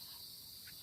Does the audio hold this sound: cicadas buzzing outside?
yes